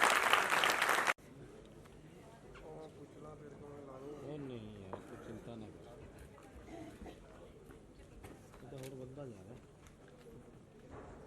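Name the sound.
audience applause after a Hindi play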